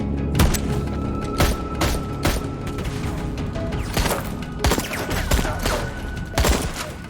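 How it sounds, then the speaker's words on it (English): TV drama gunfire scene with repeated loud shots and impacts in irregular bursts throughout, set against a background of steady noise. "They're not shooting to kill."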